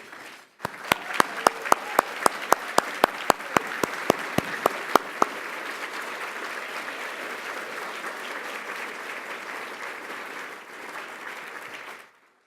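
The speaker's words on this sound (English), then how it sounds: "we can give you a round of applause" At an engineering alumni awards ceremony, an audience applauds former honorees as they stand: a few loud nearby claps stand out over a broad, steady wash of crowd clapping that continues for several seconds before stopping abruptly.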